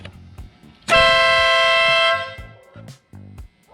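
A very loud air-style horn installed on a motorcycle in a shop blasts one sustained, steady tone for just over a second, then cuts off, followed by brief muffled clanks and handling noises nearby.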